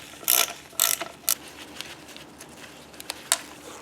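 A ratchet loosens a 13mm bolt on a third-generation vehicle during a Megashifter install, with several bursts of quick clicking separated by pauses and a few single clicks at close range.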